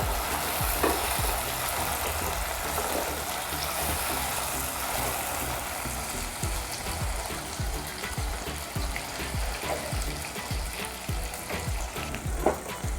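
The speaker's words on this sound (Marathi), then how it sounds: "आता ह्याला पण 5 मिनिटं परतून घ्यायचं" Chopped onion and tomato sauté in a pan with a little salt for green chicken, giving a steady, close sizzle broken up by repeated stirring scrapes and clicks throughout, with no talking.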